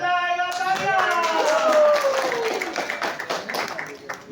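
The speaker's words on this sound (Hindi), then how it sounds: "मजा आएगा तालियां।" An audience claps for a birthday boy at a theatre play, the clapping building under a voice that sings or calls out at first, then settling into a steady run of fairly close hand claps.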